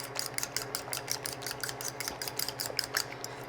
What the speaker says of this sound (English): just kind of beat that up with a fork